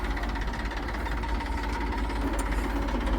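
A tractor engine runs at a steady, low idle-like chug while fitted to lay plastic mulch film on a watermelon field, the rumble close and continuous with no talk.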